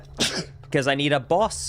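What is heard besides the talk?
sneeze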